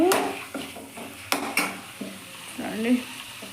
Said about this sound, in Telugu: ఇక్కడ ఎగ్స్ మసాలా చేస్తున్నాను